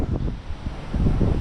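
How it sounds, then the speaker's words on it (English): Steady wind by the sea on Dhiffushi island in the Maldives buffets the microphone with a loud, continuous rumbling roar that swells and eases without pause. "if you step outside, it might be a bit windy"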